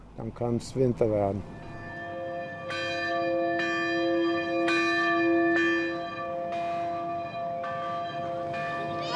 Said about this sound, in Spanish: la campana llama a los miembros de la colonia para comer